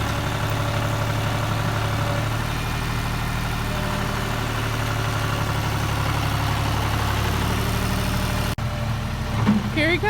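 A John Deere 5-series tractor with a front loader works on a homestead, scooping mud. Its engine gives a steady, close, low drone that briefly drops out near the end, followed by a few clanks.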